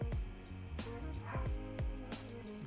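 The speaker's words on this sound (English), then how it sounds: "don't mind my dog in the background" A dog barks and yips repeatedly in quick, uneven bursts in the background of a fitness chat, fairly close and clear, with little talking over it.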